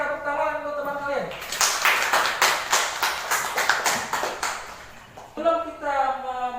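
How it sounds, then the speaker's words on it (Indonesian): Students in a classroom clap for a classmate in a short burst of quick, fairly loud hand claps. A teacher's voice is heard before and after the clapping. "Tepuk tangan untuk teman kalian."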